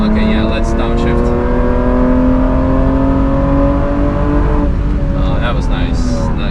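A Mercedes W124 E36 AMG cabriolet engine revs steadily after a downshift on the Nürburgring, giving a loud, continuous droning tone that climbs slightly in pitch and then drops, heard up close from inside the car.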